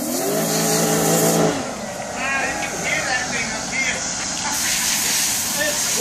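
A V8 Audi engine runs close by with a hissing, rushing roar that drops in level partway through, and someone speaks over the noise.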